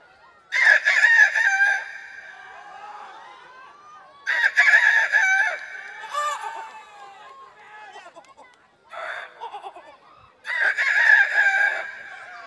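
At a live Rongali Bihu comedy show, a man imitates a rooster crowing with loud, close cock-a-doodle-doo calls. He gives four separate bursts with quiet gaps between them.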